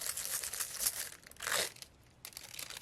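Thin metallic transfer foil crinkles and rustles in uneven bursts as it is scrubbed against a tan mule, with a louder crackling swell midway before quieter scratchy rubbing resumes, close and without talk.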